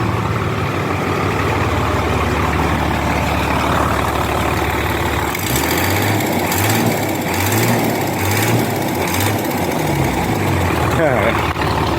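A Hino FD1J six-wheel truck with a J08C 210 hp engine idles with a rough rumble, then revs in several short, loud bursts, with talk heard over it.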